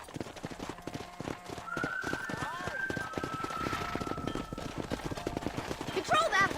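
Horse hooves clip-clopping in the video game Red Dead Redemption, steady trotting beats under character dialogue, with a brief whinny near the end.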